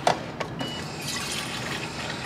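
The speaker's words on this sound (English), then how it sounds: "First stop for us is going to be filling up our water bottles." Water fills a water bottle at an airport filling station, a soft continuous rushing stream that follows a couple of small knocks, moderately quiet and steady.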